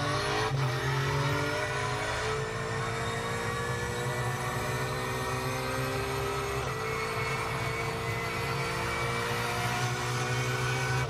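Race car engine in a sim racing game heard from a cockpit rig, a loud continuous drone with rising and shifting tonal whine, steady throughout with no speech.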